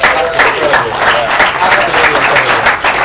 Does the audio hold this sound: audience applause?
yes